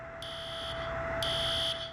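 Dorm fire alarm sounding in pulsed, high-pitched electronic bursts, two long tones over a steady background hum, moderately loud with no talk.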